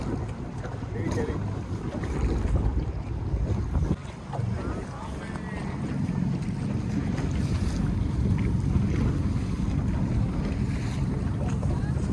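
A boat rocks and moves on the water in Venice, with a continuous low rumble, wash of water and heavy wind buffeting the microphone, and voices talking over it.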